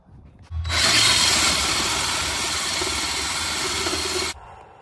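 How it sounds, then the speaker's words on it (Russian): Power drill boring a hole through a house wall for a new four-inch vent: a loud, steady grinding whir that starts abruptly, holds for about four seconds, then cuts off. "Делаю дыру для нового вента."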